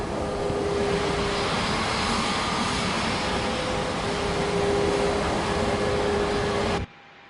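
An A320 airliner rolls out after landing in Flight Simulator 2024 on PS5: a loud, steady broadband jet roar with a faint thin tone running through it, cutting off abruptly just before the end.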